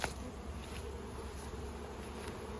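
Honeybees buzz steadily around hives at an acacia apiary, a continuous insect drone close to the microphone with no talking.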